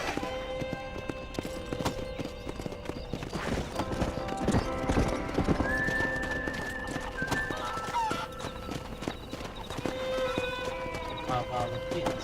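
Horse hooves clip-clopping at a steady walking rhythm in the Red Dead Redemption video game, with a brief whinny, game music tones and someone talking over it.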